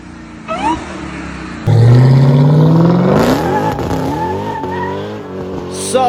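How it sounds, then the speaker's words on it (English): A Dodge Hellcat engine swapped into a car in Gran Turismo 7 revs loudly, rising through several climbing pitch sweeps with tire squeal, close and dominant throughout. "you can slap a Dodge Hellcat engine in"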